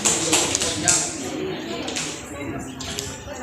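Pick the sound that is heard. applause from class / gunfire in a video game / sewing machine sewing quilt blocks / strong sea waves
applause from class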